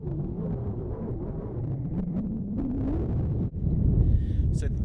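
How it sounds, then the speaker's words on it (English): Strong wind buffets the microphone on a beach on Rhodes where the Aegean meets the Mediterranean, a steady low roaring rumble throughout with a brief dip and renewed gust near the end. "It might be very windy here"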